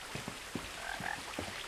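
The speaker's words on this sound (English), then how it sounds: "I hear frogs." Frogs croak in the video game What Remains of Edith Finch, a faint chorus of short, rough croaks repeating irregularly at a distance over an outdoor ambience, with no voices.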